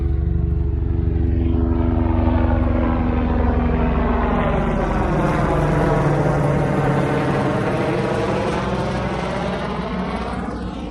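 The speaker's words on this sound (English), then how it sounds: "let me wait for this helicopter to pass" A helicopter drones loudly overhead, its thudding rotor steady and close before slowly fading as it moves away.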